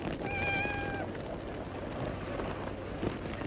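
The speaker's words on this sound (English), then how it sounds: "We've only got a cat." A cat gives one clear, drawn-out meow near the start, heard close and alone against a faint background hiss, in a 1952 movie.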